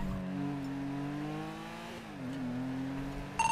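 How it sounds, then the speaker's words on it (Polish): Car engine in the game GTA V roleplay, a steady droning motor with shifting pitch as the vehicle drives and revs, fairly close and continuous, with a brief burst of other noise at the end. "Auto słyszę."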